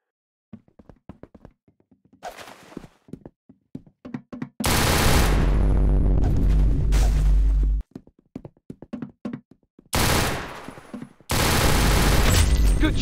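Rapid automatic gunfire from the video game Valorant: long, loud sustained bursts separated by sparse clicks and thuds, ending in two more heavy volleys.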